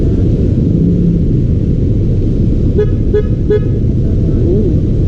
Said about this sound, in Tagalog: Yung malakas na busina.